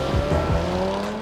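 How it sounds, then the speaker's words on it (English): A 2017 Audi SQ5 driven hard, its engine and exhaust giving a loud, continuous growl with quick rising and falling pitch sweeps over about a second. "The exhaust also adopts a purposeful tone when the SQ5 is driven to its considerable limits."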